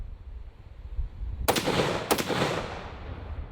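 A Nemo Nightmare .300 Win Mag rifle firing 175-grain rounds, two loud sharp cracks about half a second apart with a rolling outdoor echo trailing off after, heard with no talking.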